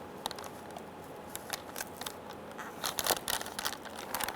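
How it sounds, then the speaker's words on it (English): A razor blade trims the plastic cowl grille of a 1994-2004 Ford Mustang, making close, dry scraping and crackling cuts in irregular bursts that grow louder near the end. "we'll just trim that with a razor"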